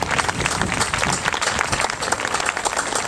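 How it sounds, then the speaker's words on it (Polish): An audience at a festival opening applauds loudly and continuously, a dense wash of many clapping hands throughout with no talk over it. "Wielkie brawa!"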